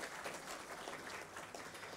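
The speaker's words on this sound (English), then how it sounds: "May I request you to kindly give us a big round of applause for the Honorable Minister." Steady audience applause at a formal industry gathering honouring a commerce minister, dense and continuous from start to end with no speech over it.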